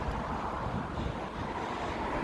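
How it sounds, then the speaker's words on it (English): Strong wind buffeting outdoors, a steady loud broadband rush with no talking over it. "it has been really windy. Really, really windy."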